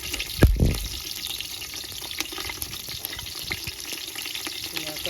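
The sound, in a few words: green chillies frying for bagara rice, cooked outdoors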